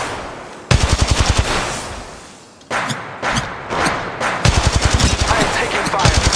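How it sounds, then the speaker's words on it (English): Rapid automatic gunfire in the video game Apex Legends, loud and close, in several bursts of evenly spaced shots broken by brief gaps and heavier impacts, with no talk over it. "Shots fired at me."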